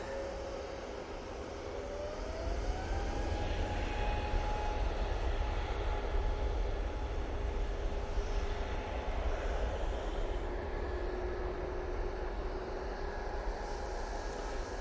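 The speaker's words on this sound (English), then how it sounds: "There's an Easyjet lined up, ready to go. And that's going to go now." An EasyJet Airbus A320neo airliner takes off at Manchester Airport, its engine roar building steadily and holding loud and broad for the whole stretch, with a rising whine over the rumble.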